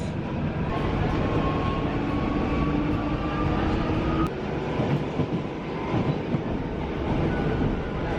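Continuous rumble and rattle of a Buenos Aires Subte Line H train in motion, heard from inside a car, with a faint whine and an occasional clack.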